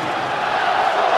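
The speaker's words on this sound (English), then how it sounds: "Crowd begging the Islanders to convert with a man advantage" A hockey crowd at an Islanders home playoff game against the Panthers roars during a power play, a dense sustained cheer filling the arena for about a second.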